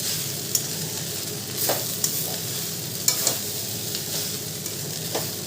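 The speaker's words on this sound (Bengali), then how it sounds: "এবারে আমি ভালো করে মিশিয়ে নেব, বিনস আর গাজরের সঙ্গে আলুর সঙ্গে ভালো করে মিশিয়ে নেব চিড়েটা।" Flattened rice is stirred with beans, carrot and potato in a hot pan for chirer pulao. Repeated scraping spatula strokes sound over a continuous light sizzle, close and without talk.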